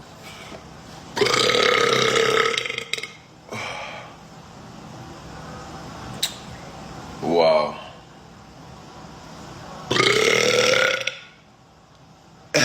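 A man belches loudly several times, with long croaking burps spaced by pauses, breaths and a short rising gulping sound, close and loud.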